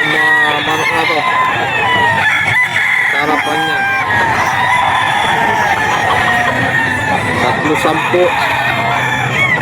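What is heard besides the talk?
roosters and chickens at a pet market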